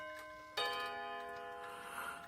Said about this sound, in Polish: Ten zegar naprawdę też tak bardzo ładnie bije